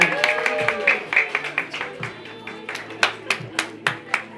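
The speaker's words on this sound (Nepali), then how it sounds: "ताली है जोरदार ताली" Scattered clapping from a small family gathering at a parents' 50th wedding anniversary, sharp individual claps in an uneven rhythm, fairly close and moderately loud.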